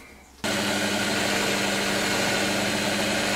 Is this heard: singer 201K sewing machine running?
yes